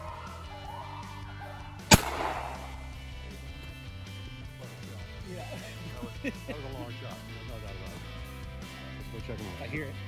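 A single sharp gunshot cracks out while hunting snowshoe hare in the Maine woods, loud and abrupt with a brief echoing tail, followed by low background noise and people talking.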